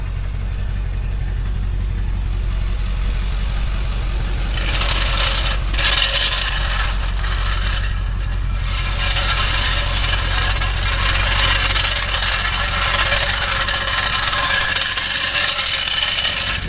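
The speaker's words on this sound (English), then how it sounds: "Until I jack it up." A ratcheting jack lifts a Hyundai car with a broken ball joint, a continuous rapid clicking and mechanical grinding close by, growing louder and harsher partway through, with no talk.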